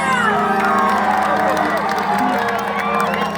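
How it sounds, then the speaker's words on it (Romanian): Children's day concert crowd in Mioveni cheering and shouting loudly and steadily over amplified music with a strong tonal backing, voices mixed throughout. "Aplauze pentru noi!"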